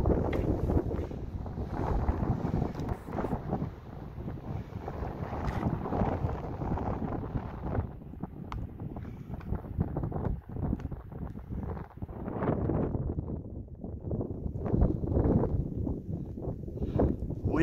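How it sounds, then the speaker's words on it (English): Wind gusting across a mountain ridge trail on the Pacific Crest Trail in drizzle and fog, a rough, low roar buffeting the microphone in uneven surges that build and ease, with no speech. "Windy and drizzling, but still spectacular."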